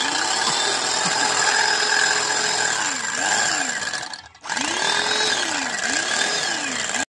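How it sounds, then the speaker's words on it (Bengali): Eggs are beaten with a handheld electric egg beater for a homemade cake, giving a loud, close, continuous whirring motor buzz that cuts out briefly and restarts, with the beaters scraping rhythmically against the bowl. "এখন ওই ডিমটা ফেটবে এই মেশিনটা দিয়া।"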